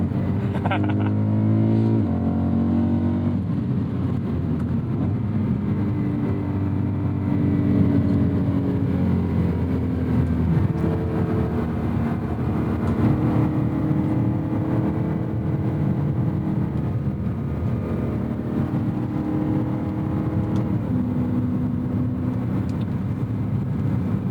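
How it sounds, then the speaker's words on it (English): A 2010 BMW M3 E90 with its V8 engine downshifting and revving, a loud sustained engine drone with rising and falling pitch sweeps from gear changes, heard from inside the car with a voice talking over it. "Tasty downshifts."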